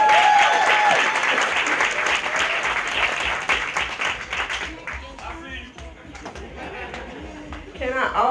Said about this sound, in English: Let's clap it up for Craig Moore.